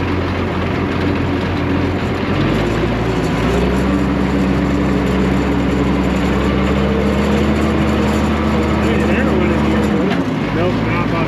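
Allis Chalmers 190XT tractor engine running, a loud, steady low diesel rumble heard close throughout, with pitch shifts as the load changes and a dip near the end.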